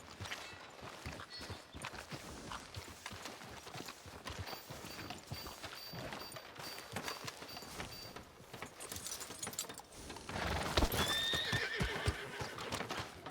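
A horse in Red Dead Redemption 2 clip-clops on a town street and gives a whinny near the end, the hooves steady and moderately close under ambient game sound.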